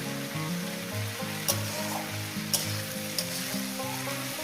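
Small river fish frying with Malabar spinach in oil in a pan over medium gas, a steady broadband sizzle with a few sharp stirring clicks, close and continuous, no voices.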